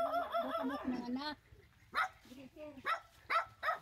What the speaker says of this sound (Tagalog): nakakatakot yung aso ni nanay.